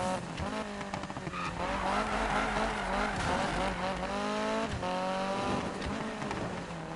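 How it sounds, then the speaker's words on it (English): Engine revs and sustained tire squeal from a car drifting in a racing video game, running loud and continuous with rising and falling pitch sweeps as the car slides. "Like, who's gonna drift like this?"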